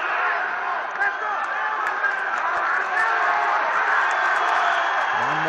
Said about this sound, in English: Ivanov attacking right now with all the Bulgarian crowd screaming for his victory